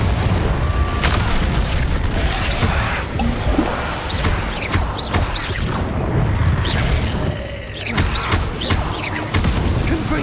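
Hogwarts Legacy video game combat with a Confringo explosion spell, loud booming blasts and crashing impacts across a dense, continuous battle soundscape.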